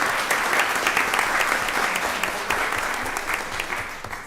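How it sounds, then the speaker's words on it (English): Sustained round of applause at a county board of commissioners meeting for a woman receiving a master's certification, steady dense clapping from the room that tapers slightly toward the end. "if we can have a round of applause for Miss Olandria Bings"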